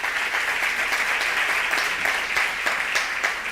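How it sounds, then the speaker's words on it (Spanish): Loud, sustained applause from a church congregation, a dense wash of many hands clapping evenly for several seconds with no talking. "Le puedes dar un aplauso fuerte a Él."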